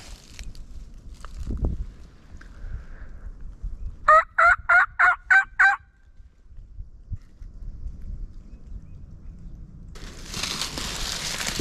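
A wild turkey gobbles in a Maryland spring hunt, a rapid burst of about six gobbling notes carrying from a distance, with a gusty wind rising afterward.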